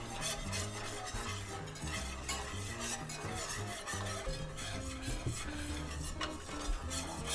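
A whisk scrapes and stirs a roux in a pot for New Orleans shrimp étouffée, in continuous rhythmic metal-on-pan strokes close up, with soft background music underneath.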